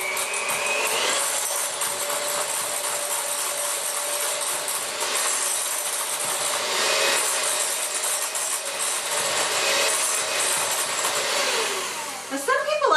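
An electric mixer beats softened butter and cream cheese for a pineapple upside-down cake, its motor whirring in a continuous close hum that holds steady, then ends with a brief clatter.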